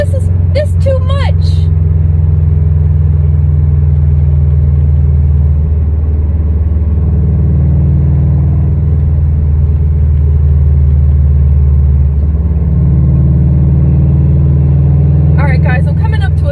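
Manual transmission car engine rumbling steadily while driving, loud and close from inside the cabin, with slight shifts in pitch as the revs change; brief speech sounds at the start and end.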